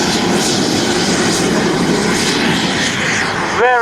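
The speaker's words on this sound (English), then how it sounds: "Okay, just airborne now, Dave Frank with his Viper jet, it's a sport jet." A Viper sport jet, a civil jet flown at a model air show, roars past loud and close in one continuous high-pitched whine, with a brief Doppler sweep at the end.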